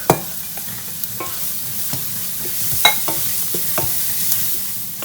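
Garlic hitting a pan of softened onions for fettuccine carbonara, giving a close, steady sizzle broken by a few sharp clicks and taps of a utensil against the pan, with no voices.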